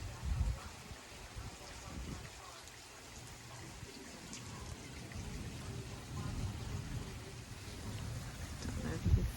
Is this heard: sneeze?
no